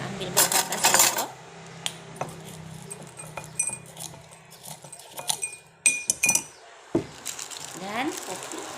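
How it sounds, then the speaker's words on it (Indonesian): A metal spoon clinks and scrapes against a glass while scooping salt, with scattered sharp taps and rattles over a few seconds amid quiet room noise. "Kita ambil beberapa sendok."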